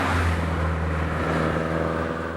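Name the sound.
Nissan Silvia S15 SR20 engine accelerating in fifth gear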